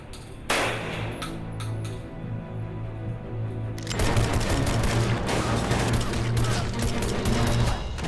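Gunfire from a gas-operated firearm of the kind used in The Expendables 2, with loud cracking reports near 0.5 s and a denser burst of shots from about 4 s, heard over steady tonal music.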